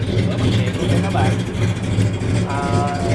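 A 1957 Ford car's engine idles steadily and smoothly at close range, a continuous low rumble under someone talking throughout.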